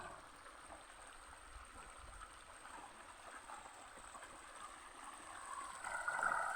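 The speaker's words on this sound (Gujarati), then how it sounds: "જાય હવે ધોરિયામાં પાણી ભાઈ" Irrigation water running along a field channel toward coconut trees, a steady low trickling and gurgling flow that stays fairly even and grows a little louder near the end, with no talk.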